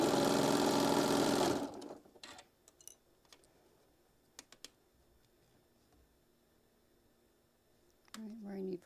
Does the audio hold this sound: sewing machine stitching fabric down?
yes